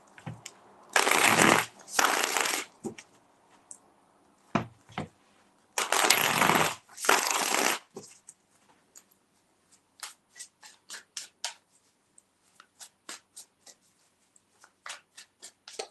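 Tarot cards are shuffled by hand in two loud, riffling bursts that sit up close. Quieter taps and flicks of the cards follow, sparse at first and then coming in quick, irregular clicks.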